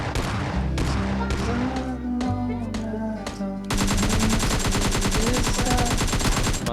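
Gunfire erupts in a PUBG Mobile Lite fight, loud close bursts of rapid automatic shots, a few separated rounds, then a dense sustained volley over a low droning background.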